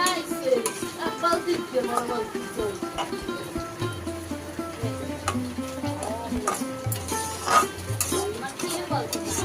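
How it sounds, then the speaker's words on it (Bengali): Semolina dry-frying until lightly reddened in a pan, stirred with repeated scraping and clinking of a spoon against metal, close and busy, with faint household voices and noise behind. "সুজিটা একটু হালকা লাল লাল করে ভেজে নেব"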